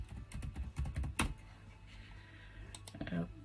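Password being typed on a computer keyboard, a quick run of light clicking keystrokes at close range, with faint background murmur and no clear talk over the taps.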